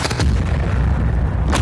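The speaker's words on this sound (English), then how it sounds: "Taro is spared when Garu acts alone and diverts all of the gunfire." Anime gunfire from Death Gatling's Death Shower attack, a loud sustained barrage of heavy rapid booms with sharper bursts at the start and end.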